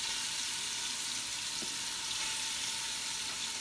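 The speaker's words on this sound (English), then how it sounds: "We gonna sear this down." Seasoned beef searing in hot vegetable oil in a pot, giving a steady, even sizzle and frying hiss close to the listener, with no talking.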